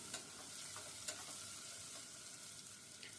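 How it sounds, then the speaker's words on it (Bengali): Potatoes tipped into a pan of frying onions and stirred, giving a steady, close sizzle with a few scraping stirs and no talk. "আর এই তো আলুগুলো ছেড়ে দিচ্ছি। আলু ছেড়ে দিয়ে একটু নাড়াচাড়া করে নেব।"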